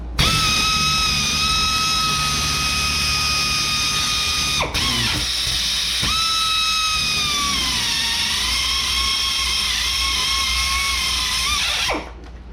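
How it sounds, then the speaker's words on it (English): A loud power drill whines at a high pitch, stopping briefly twice and shifting tone as it bites into metal rotor screws on a 2005 Honda Pilot, then winding down at the end. "So we just got to drill them out."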